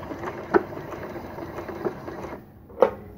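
Computerised sewing machine sewing on a button with a lock stitch, a close mechanical whir of rapid stitching with a few sharp clicks, stopping abruptly near the end.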